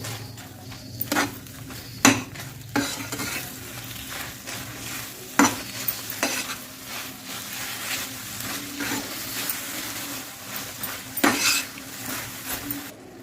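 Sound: grated fresh coconut stirred into boiling melted jaggery

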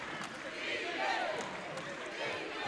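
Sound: basketball crowd chanting defense

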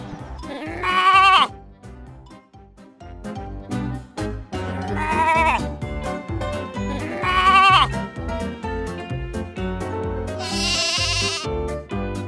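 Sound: sheep bleating, from a kids' animation

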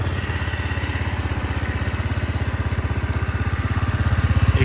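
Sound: Kanuni Resa 125 scooter exhaust sound while idling

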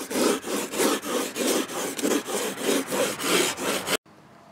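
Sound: rasp filing and shaping wood

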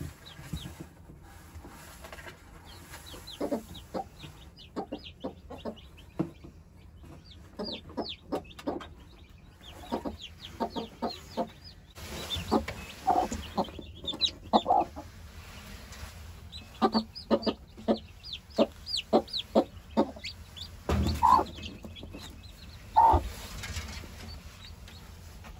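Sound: hens clucking with newly added chicks

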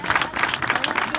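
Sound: big applause for Ernesto

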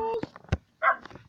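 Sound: puppy dog sounds in video game Minecraft

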